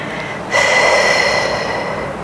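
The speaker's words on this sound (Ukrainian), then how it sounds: "Ще вдих" A deep, steady breath drawn in during an abdominal workout, a broad airy hiss that starts abruptly and holds for nearly two seconds, close and fairly loud with no talking.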